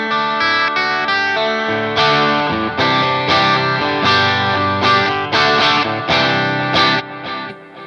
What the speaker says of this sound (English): So it kind of allows you to have a single coil bridge sound